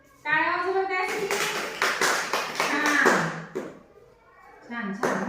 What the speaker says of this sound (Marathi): टाळ्या वाजवा त्यासाठी.